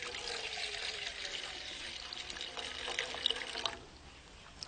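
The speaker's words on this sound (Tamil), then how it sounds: "1 டம்ளர் தண்ணி ஊற்றிக்கிறோம்." Water poured from a tumbler into a pot for an herbal decoction, a steady close splashing trickle that runs for about four seconds before cutting off, with a few small clinks near the end.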